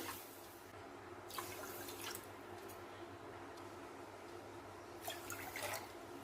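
Water is poured into a kadai holding a cup of sugar, making faint splashing bursts near the start and again near the end over a quiet background hiss.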